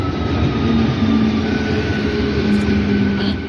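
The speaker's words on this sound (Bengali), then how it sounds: "পান্ডুয়া স্টেশনে কিছুটা সময় ওয়েট করতেই চলে আসলো আপ হাওড়া মেমারি লোকাল।" An up Howrah–Memari local train pulling into Pandua station, a loud continuous rail rumble with a steady hum and faint whistle-like tones, close by and without talk.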